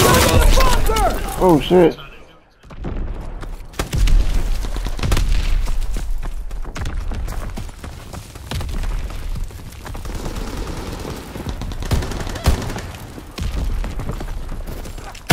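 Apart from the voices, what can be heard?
grenade thrown and exploding in the video game Call of Duty WWII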